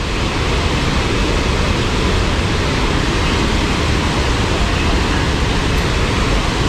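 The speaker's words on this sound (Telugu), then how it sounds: "ఆ పైనుంచి వాటర్ అలా పడుతూ పడుతూ కిందకు వస్తున్నాయి. మ్యాగ్నిఫిషెంట్ వాటర్ ఫాల్ లాగా ఉంది ఇది" Abbey Falls near Madikeri pours water from a height with a loud, constant, broadband roar that fills the whole stretch without a break, heard up close and alone.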